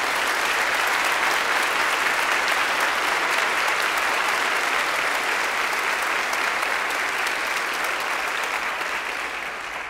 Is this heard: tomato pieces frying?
no